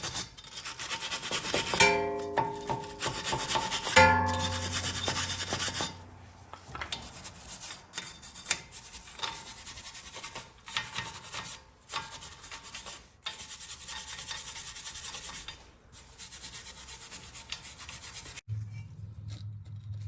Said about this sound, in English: I'm cleaning all this hub surface as well as the studs for the lug nuts with a wire brush